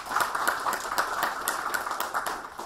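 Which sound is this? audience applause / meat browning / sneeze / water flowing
audience applause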